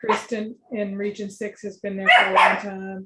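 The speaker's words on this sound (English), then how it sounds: "I apologize about the dogs barking." A person talks steadily while dogs bark in the background, a few sharp barks mixed under the speech.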